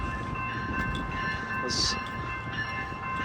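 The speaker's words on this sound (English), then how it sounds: "here's the A line to DIA just pulling into the station" An A Line commuter train bound for Denver International Airport rolls into the 38th & Blake station, a steady loud rumble of wheels and cars with a brief high horn or signal tone midway, with faint voices nearby.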